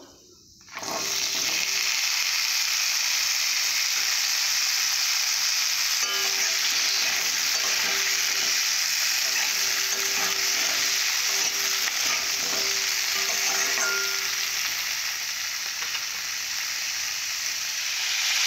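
Malabar spinach (puishak) fries in a pan after neem leaves and fish, giving a loud, steady, close sizzle with faint stirring scrapes and no talk.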